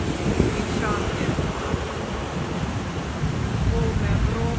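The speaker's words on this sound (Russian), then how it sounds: "Волны огромные." Huge sea waves pound the shore at Grechanka in stormy weather, making a dense, loud, continuous roar of surf mixed with gusting wind buffeting the microphone.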